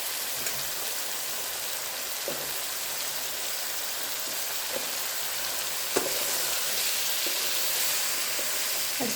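Finely chopped potatoes and tinda fry in a pan with a steady, dense sizzle like light rain, broken by a few soft clinks of stirring, and no voice over it.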